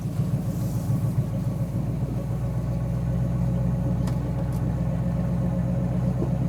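A 1957 Chevy V8, restarted after more than 40 years, runs at a steady moderate RPM. A low, even, rumbling drone holds close and unbroken, with faint clicks near the end and no talking.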